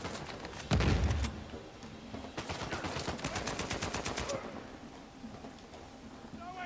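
Gunshots from the Uncharted 4 video game: one heavy blast early, then a run of rapid, evenly spaced shots resembling automatic fire, fairly loud and close, fading into quieter game ambience.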